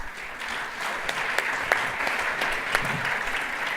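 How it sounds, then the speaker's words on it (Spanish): A conference audience applauds to welcome a speaker at an innovation event, a steady, dense wash of clapping that holds evenly for several seconds with a few sharper claps standing out near the end. "Un aplauso para él."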